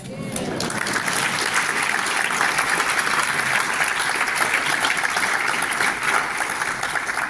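Sustained applause from a conference audience, a dense wash of many hands clapping at steady loudness for over seven seconds without letting up.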